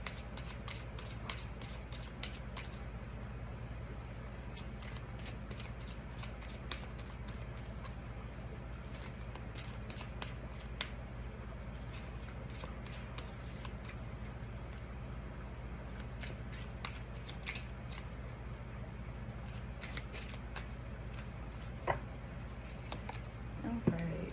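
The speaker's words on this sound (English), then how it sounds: "pull from the Spirit Oracle deck for more context" Oracle cards being shuffled and drawn from a deck, a steady crisp riffling and flicking that runs close and continuous throughout at a low level, with a few soft card pulls near the end.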